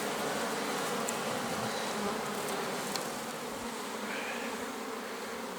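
A dense, steady drone of many bees buzzing continuously, with occasional individual bees passing closer.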